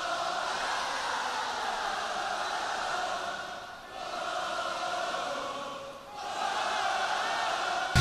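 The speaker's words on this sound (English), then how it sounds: "Another crowd going crazy" A large concert crowd at a metal show cheers and roars wildly, a dense and sustained wall of voices that dips briefly twice before surging back loud.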